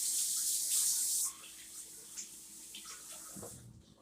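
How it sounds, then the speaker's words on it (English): A kitchen tap runs hard over a fork for about a second, then the water cuts off and a few faint drips and clinks follow. "I'm going to rinse this fork off."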